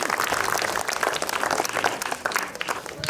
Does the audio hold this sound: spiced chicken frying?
no